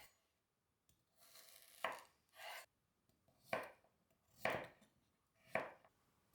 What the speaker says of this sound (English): Roughly chop 1 red onion and 2 to 3 garlic cloves.